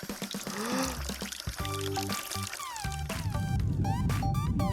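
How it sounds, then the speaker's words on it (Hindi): Water being poured into a bottle, with a steady gurgling, rising fill tone that climbs in pitch as the bottle fills, heard close and fairly loud without talk. "ठीक है, हम पानी भरते हैं।"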